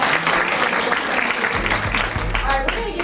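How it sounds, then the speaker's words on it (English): Audience applause for sponsors at a players' wives association fashion show and benefit, dense and steady clapping from a crowd filling the room, with a low hum entering partway through and some voices mixed in. "We got to give our sponsors another round of applause."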